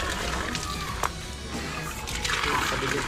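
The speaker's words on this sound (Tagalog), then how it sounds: "Malakas ang tubig." Water from a newly installed pump in a Philippine well pours out forcefully, a dense, steady gushing and splashing that runs the whole time, with people talking faintly over it.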